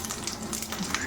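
Curry leaves hit hot oil in a frying pan while mango pulihora is being made, giving a loud, steady, close-up sizzle that continues throughout.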